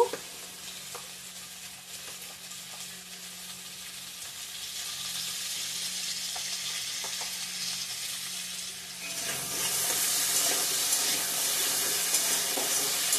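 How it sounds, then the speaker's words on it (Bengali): Mango chutney ingredients, cut mango with salt, fry in a pan with a constant close sizzle and occasional stirring scrapes, growing louder and hissier near the end, with no talk. "ভালো করে ভেজে নেব।"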